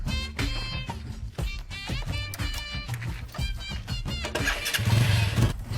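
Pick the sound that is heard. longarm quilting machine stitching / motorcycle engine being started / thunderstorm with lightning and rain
motorcycle engine being started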